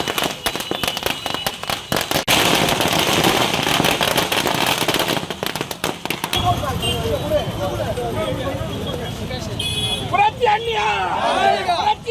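Firecrackers burst during a street celebration by party supporters, a dense crackle of rapid pops in the first half that gives way to crowd noise, whistles and shouting.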